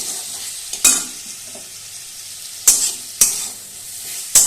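Ginger-garlic paste being stirred and fried in a pan for dhokar dalna, a steady sizzle broken by four sharp spoon scrapes against the pan, close and fairly loud, with no talking.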